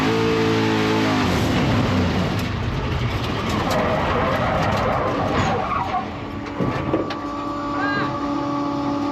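A big block Chevy powered drift car screams at high revs, loud and close, with tire noise and engine roar that suddenly sputters and drops off as the engine fails, then a rough idle continues.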